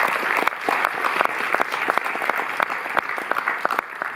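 A theatre audience at the Paris Cinémathèque claps steadily for Luc Béraud, dense overlapping handclaps forming a sustained, fairly close wash of applause with no voices standing out.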